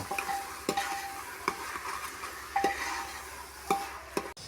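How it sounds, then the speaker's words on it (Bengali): Rice sautéed in oil in a pressure cooker pot for lentil khichuri, a gentle, constant sizzle with regular clinks and scrapes of a spoon against the metal, close and fairly quiet. "চালটা দিয়ে দিব এখন কিছুক্ষণ কষিয়ে নেব"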